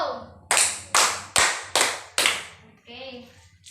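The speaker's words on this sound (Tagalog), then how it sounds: "Sige, bigyan natin ng 5 palakpak." Children clap together five times in a classroom, each clap sharp and evenly spaced, followed by faint voices.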